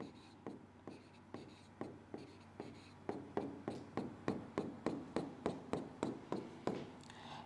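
Chalk or marker tapping and scraping on a board in a series of regular, distinct strokes, close and fairly faint, growing slightly firmer toward the end.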